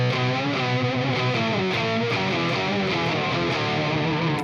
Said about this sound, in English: That's why I kick in the Park. Electroharmonics Park Octaver.